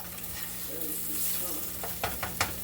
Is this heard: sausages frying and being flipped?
yes